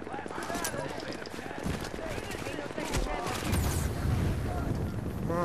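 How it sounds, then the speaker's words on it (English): Gunfire rattles in the distance during a Dark Zone match in the video game The Division, with bursts of shots over a continuous dense wash of game sound. "I can hear the gunshots from far away."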